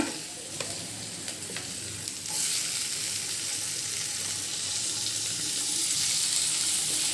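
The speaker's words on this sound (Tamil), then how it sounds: "வெங்காயம் நல்லா வதங்கணும்" Onions sauté in a pan with a loud, continuous hissing sizzle, broken early by a few scraping stirs, then a dense, steady frying sound to the end without speech.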